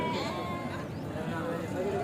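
Goats bleating at a weekly sheep and goat market in Galiveedu: wavering, drawn-out bleats over a dense, constant crowd and market background, with talk underneath.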